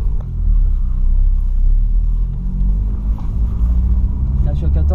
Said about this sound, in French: on l'entend le turbo